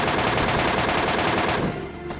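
Loud, sustained automatic rifle fire in a shooting video game featuring the MK14, a dense rapid burst that rattles on for over a second and a half before cutting off into quieter game ambience.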